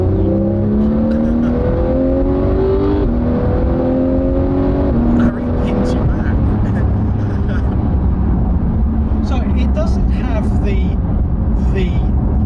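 A Porsche GT3 4.0 sports car engine revs and climbs through the gears, loud and close, with rising and falling tones and a brief shift pause.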